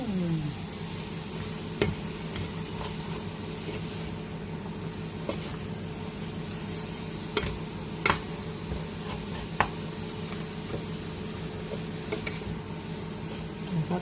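Vegetables for pancit, with string beans added, stir-fry in a pan: a steady, loud sizzle runs throughout, broken by scattered clicks and scrapes of a stirring utensil.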